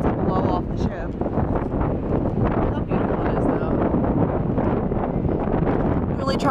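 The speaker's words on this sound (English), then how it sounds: "it is so windy up here" Strong wind roars across a cruise ship's upper deck, a steady loud buffeting against the microphone throughout, with faint voices underneath.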